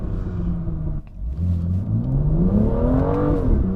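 A 2018 BMW M2 Black Shadow Edition engine revving up, a deep rumble that dips briefly then climbs steadily in pitch as the car accelerates, close and loud with no talk.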